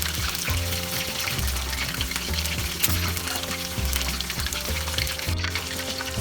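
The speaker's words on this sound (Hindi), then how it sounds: "सेम प्रोसेस में बाकी बैचेस भी मैं फ्राई कर लेती हूँ।" Chicken pieces for orange chicken deep-fry in oil over a medium-high flame, a soft, even bubbling sizzle with a faint recurring rhythmic clatter underneath, fairly quiet and steady throughout.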